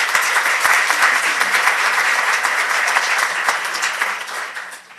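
Audience at a research symposium applauding to welcome a speaker to the podium, a sustained, dense round of clapping that holds steady before tapering off at the end.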